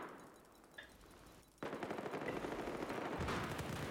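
Sustained automatic gunfire in the Battlefield 4 video game, Siege of Shanghai map, bursting in loudly after a quieter opening and continuing as dense, rapid shots with no talk.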